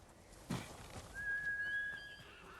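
A horse in the Ghost of Tsushima video game neighs once, a thin whinny following a soft thud, faint against low game ambience.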